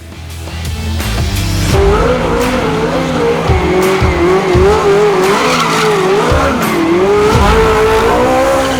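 The DevBot race car drives past loudly with engine roar and sustained, wavering tire squeal throughout, no talking.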